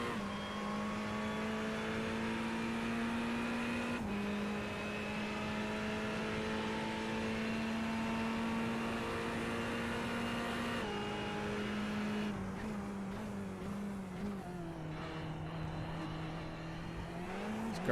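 A pack of Ferrari race cars in a sim racing game at Monza. Engines hold a steady, droning high-revving tone and shift pitch with gear changes. The sound is continuous, close and fairly quiet, with no voices.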